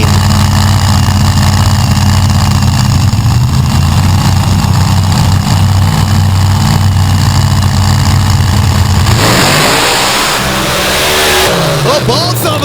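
Dirt drag racing cars roar at full throttle as they launch down the dirt track, a loud sustained engine howl that shifts pitch near the end, with an announcer talking over it.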